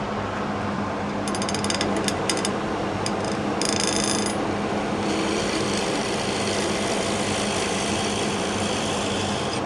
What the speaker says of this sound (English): So all I want to do is hollow that out just a little bit, right there.